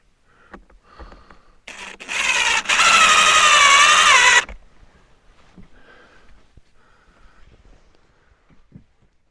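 A drill driving a screw into a cabin gable end outdoors, one loud whirring burst of about three seconds with rising pitch, surrounded by quiet handling noises.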